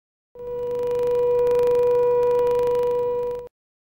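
An alternative fire alarm tone at the Huntsman chemical site in Whitehaven holds as a single loud, continuous electronic note for about three seconds, alone, then stops abruptly.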